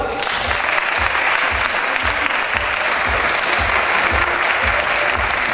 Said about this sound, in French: Merci de lui réserver un maximum d'applaudissements.